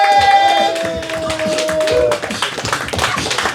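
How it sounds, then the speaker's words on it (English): A comedy club audience claps steadily for comedian Matt Hollins, a dense patter of applause over a backing music sting. "And let's give that applause going"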